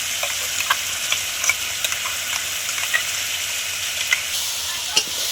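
Chicken and sesame paste fry in an oily cooked-down spice mixture, with a dense, even hiss of sizzling close by and a scatter of faint ticks and small clicks from stirring.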